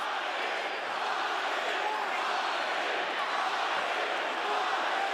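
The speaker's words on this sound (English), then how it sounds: "And the capacity crowd here continuing to cheer at full volume for their man." A capacity crowd at a cruiserweight title boxing fight roars steadily at full volume, a dense continuous arena din with no breaks, heard over the commentator's voice.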